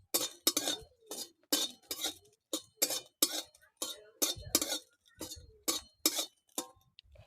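Dry red chillies are stirred with a metal spatula in a hot kadai, making about a dozen sharp, close clinks and scrapes in a quick, uneven rhythm with brief silences between strokes.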